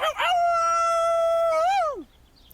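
Character voice howling in the video game Fire Emblem Engage, one long sustained wolf-like howl that holds a steady pitch, rises briefly and then slides down, loud and clear with no talk over it.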